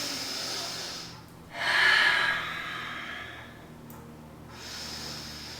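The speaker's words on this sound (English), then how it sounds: "taking a few breaths here" A person breathes slowly while holding a seated yoga twist for the legs and lower back, one long audible exhale rising then fading, alone with no talk.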